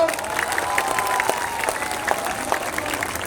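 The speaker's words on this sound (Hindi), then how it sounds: "अब जिसको जिसको ताली बजाना है बजा लो" Crowd applause at a Jan Suraaj political speech in Bihar, steady mid-distance clapping from a gathered audience with faint crowd noise and a few sharper claps standing out.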